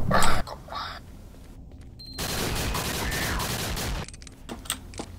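Pistol shots in the game Doom 3, a few sharp cracks mixed with bursts of dense clattering fire and noisy game effects, with no talk.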